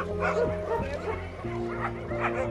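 A big young dog at an animal shelter makes repeated short barks and whimpering yips, close and fairly loud, with people talking over it.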